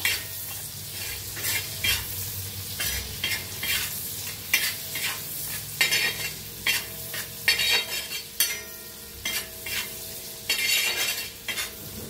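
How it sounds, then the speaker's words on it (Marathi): Finely chopped onion fries and is stirred in a pan for an egg dish, with a steady sizzle under repeated scraping strokes of a spoon against the metal, close and fairly loud. "कांदा छान असा भाजून घ्यायचा।"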